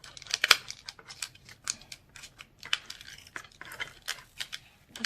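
Scissors snipping and cutting through tight plastic toy packaging during an unboxing, a string of short crisp snips and crinkles at close range, with no talking.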